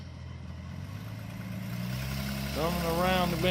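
A Ford Mustang with non-power steering drives around a bend, its engine a steady low hum that swells slightly as it nears, with a voice talking briefly near the end.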